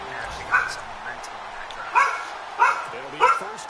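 Several barks and yips from dogs in a home sound from across the room, four short bursts spaced over a few seconds beneath a steady background murmur.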